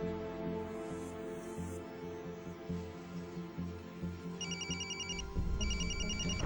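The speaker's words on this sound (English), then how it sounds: "Whose phone is that?" A mobile phone ringtone chirps in short repeated bursts near the end, faint and partly buried under a low, steady background of music and room noise, with no voices.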